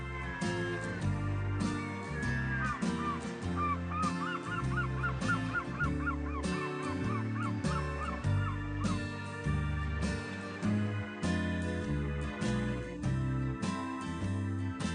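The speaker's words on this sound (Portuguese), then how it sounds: "ouvir o canto das gaivotas" Seagulls cry repeatedly on the coast at Saint-Valery-en-Caux, France, a chorus of honking, mewing calls over steady background sound, fairly close and continuous.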